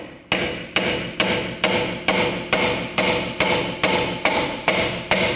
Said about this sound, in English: You can either try using a hammer, give it a couple loving bonks